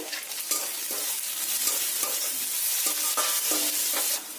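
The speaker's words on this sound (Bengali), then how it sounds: "সবকিছু মশলা আমার ভালো করে কষানো হয়ে গেছে" Chopped ginger and tomato fry in a spice masala in a pan, a steady bright sizzle with repeated scraping stirs of a spatula through most of the stretch, close and fairly loud, no talking.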